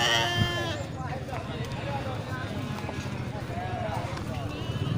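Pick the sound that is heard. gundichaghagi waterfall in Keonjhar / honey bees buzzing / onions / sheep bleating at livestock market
sheep bleating at livestock market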